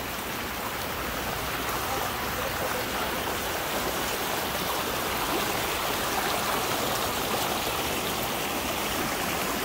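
River water flowing near a coffee spot in Antipolo, Rizal, a steady, even rushing wash that fills the whole stretch without pause and with no talking.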